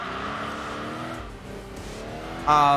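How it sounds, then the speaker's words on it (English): Racing car engine from the PS2 game Enthusia Professional Racing, a steady droning tone with shifting pitch, then a sudden louder, higher rev burst near the end. "for a PS2 game, like this game has decent car sounds"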